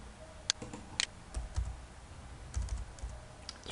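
Shortcut keys such as Ctrl C being pressed on a computer keyboard: a few sharp, separate clicks and taps at an uneven pace, close and clear, with no voices.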